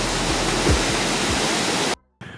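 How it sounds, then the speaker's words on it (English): Waterfall roaring in Wells Gray Provincial Park, a loud, dense, continuous rush of falling water up close that cuts out abruptly near the end before resuming. "It's a pretty sick waterfall."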